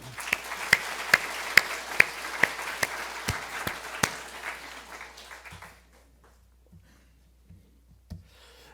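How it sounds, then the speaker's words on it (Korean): Applause for a small church orchestra at a Sunday morning worship service, a steady crowd clapping for about five seconds with a few sharp individual claps standing out, then fading to near silence with a couple of stray late claps. "우리 미니 관현악단들 한번 박수를."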